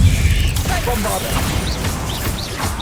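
A Bombarda spell blast in the game Hogwarts Legacy gives a loud, close crash with mechanical rumble, followed by rattling debris and whooshing magical effects.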